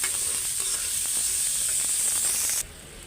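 Onions fry in a pan for a home-cooked fish dish, a close, steady bright sizzle with faint stirring clicks, cutting off abruptly near the end to a soft low hiss; no speech.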